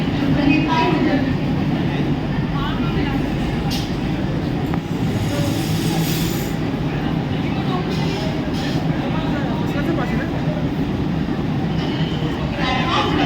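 A Mumbai local train at a platform in Thane station at night gives a loud continuous rumble and rolling clatter, with faint squeals through the whole stretch and a station announcement spoken over it.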